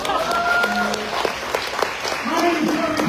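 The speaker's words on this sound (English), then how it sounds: "Give yourself a round of applause." A seminar audience claps steadily, with a speaker's voice and some crowd noise running over the dense applause.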